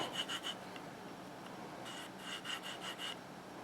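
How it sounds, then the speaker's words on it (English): Knife serrations are sharpened on a small ceramic rod from a Work Sharp guided field sharpener, giving quiet, close rasping strokes in two short bursts of quick back-and-forth rubbing. "you could use this smaller ceramic rod right here to go ahead and sharpen those small serrations like that"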